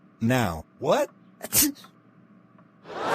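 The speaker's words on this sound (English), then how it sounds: "did you just sneeze on my face?" A cartoon character sneezes, a sharp burst after a short drawn-out buildup, with cartoon voices talking before it.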